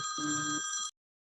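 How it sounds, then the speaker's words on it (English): A telephone bell gives a single short, bright ring, close and clear, then cuts off into silence. "at first I was paranoid thinking that that was a phone in my office going off"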